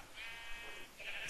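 Sheep bleating in the video game Minecraft, two drawn-out, wavering bleats in quick succession, clear and close, with no talk over them.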